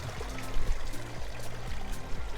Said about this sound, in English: the water feature. Sound of water lapping away